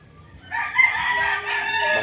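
A pure Milsim gamefowl rooster crows once, close and loud, with a strained, drawn-out call of about a second and a half rising over faint background noise.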